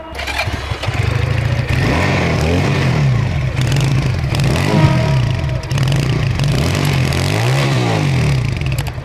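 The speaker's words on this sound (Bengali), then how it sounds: "আমি যদি সবার সুবিধার্থে স্পাইডার ভার্সন থ্রি একটু স্টার্ট দিয়ে শোনাই" A Regal Raptor Spider Version 3 motorcycle engine starts and runs loud and close, with a rough idle and repeated rising and falling revs throughout.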